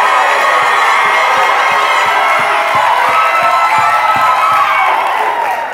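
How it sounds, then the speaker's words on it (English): A live studio audience at a podcast taping in Mexico cheers and whoops loudly in a dense, sustained crowd roar with steady clapping underneath, filling the room without pause. "Give yourselves a round of applause"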